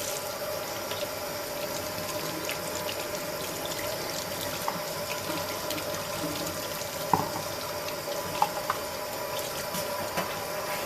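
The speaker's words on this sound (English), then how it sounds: "I will rinse it in cold water." Steady broadband rush of cold tap water running over a freshly dyed sand-coloured plastic PMAG rifle magazine during rinsing, continuous and fairly close for the whole stretch, with a few small knocks of handling and no talk.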